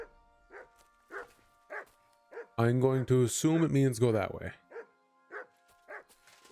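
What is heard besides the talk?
dog barking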